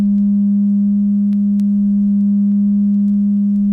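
A steady pure tone of 200 cycles per second holds loud and unbroken for nearly four seconds, a plain low sine hum with no other sound, cutting off abruptly at the end.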